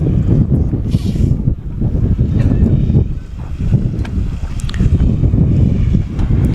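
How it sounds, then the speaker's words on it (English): Steady wind gusting across an airfield at a short takeoff and landing event in Tehachapi, California, a loud continuous low rumble of buffeting with no speech. "The wind does appear to be picking up just a little bit."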